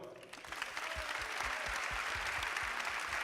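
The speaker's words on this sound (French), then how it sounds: "Je vous demande d'applaudir" An audience at a business network event applauds continuously, steady clapping with a soft rhythmic low thump running beneath it, building slightly after the first half-second.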